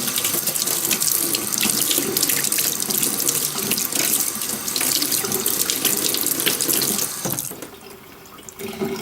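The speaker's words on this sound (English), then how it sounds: "Also make sure you wash all the soap out." Tap water runs steadily into a sink while soap is rinsed out of a paint brush, a loud continuous splashing stream that eases off briefly near the end.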